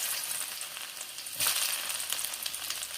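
Ginger and garlic paste fries in hot oil in a pan, giving a steady crackling sizzle that surges louder partway through as more goes in, then keeps sputtering.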